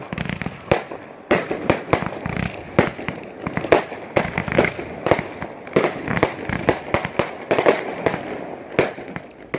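Rapid bursts of fireworks popping and cracking, irregular and loud, overlapping bangs in quick succession throughout.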